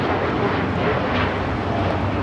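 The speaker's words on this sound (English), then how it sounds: "This is Japan Airlines Flight 69 taking off to Osaka on a 787-9 Dreamliner" A Japan Airlines Boeing 787-9 Dreamliner takes off at LAX, its engines giving a loud, dense, continuous roar through a short burst with no voices.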